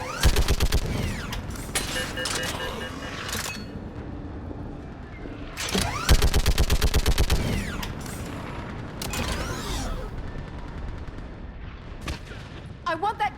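Sustained gunfire from a Mass Effect 3 battle, with bursts of rapid automatic shots and heavy mechanical clatter that return in waves at close range under a constant combat din.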